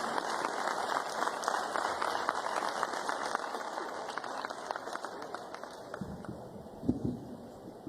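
An audience applauds members of Colombia's National Police at a ceremony, a steady wash of clapping that fades toward the end with a few louder thumps.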